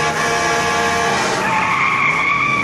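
A 1941 Chevy truck skids in a film chase scene, its tyres letting out a sustained, loud, wavering squeal that shifts pitch partway through and carries for nearly three seconds.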